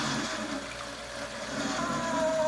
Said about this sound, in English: the water and the angle of the machine will flush the heavy material right out of the spiral pan